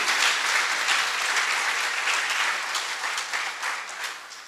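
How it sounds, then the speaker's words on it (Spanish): A congregation in church breaks into loud, dense applause, a continuous wash of many hands clapping that holds steady and then gradually tapers off. "Dé un fuerte aplauso que es para Él."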